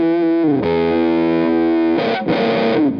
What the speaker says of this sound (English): Octavia's and analog octave pedals can be so noisy